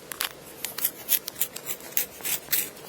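A pencil is sharpened, giving a quick series of crisp, scraping grinds in short rhythmic bursts, close and fairly quiet, with no talk.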